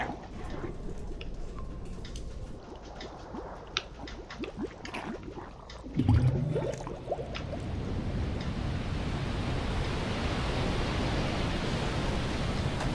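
Water rushing and filling a space in the video game I Am Fish, a steady broadband wash that swells loudly after a sharp splash midway and then holds as a dense, continuous surge with no talk.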